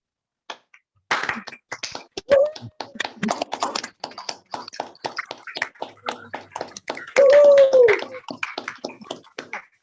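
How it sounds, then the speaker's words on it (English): Scattered applause comes from several unmuted participants in an online Zoom meeting, uneven, sparse claps close to the microphones with a few overlapping bursts and faint voices. "unmute for 15 seconds and then applause"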